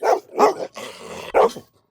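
Electronic alarm sound effect imitating a barking dog: three loud, close bark-like bursts with a short rough growl between them, no voices over it.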